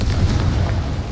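A deep explosive boom bursts as the Confringo blasting spell detonates in the video game Hogwarts Legacy. Loud and close, the heavy rumble fills the moment without a pause, with no voices.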